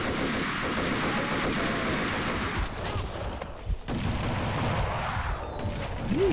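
Enemy gunfire in the video game Max Payne 2 comes as loud, dense volleys of rapid shots with booming impacts, briefly easing midway before resuming.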